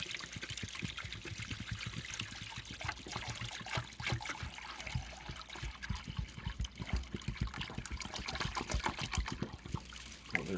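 Steady stream of water pouring and splashing into a container, continuous and close, with no voices.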